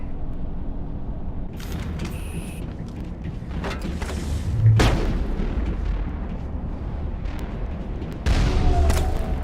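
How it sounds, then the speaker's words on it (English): Missile explosion in the Mass Effect video game, with a sharp boom near the middle amid continuous rumbling combat noise and mechanical creaks, followed by another loud burst near the end. "Oh, I heard a missile."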